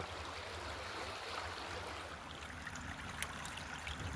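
Steady rushing and trickling of a creek flowing over stones, continuous and fairly close, with no voices.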